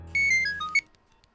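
A phone rings in a short burst of bright, melodic electronic tones lasting about a second, then fades out.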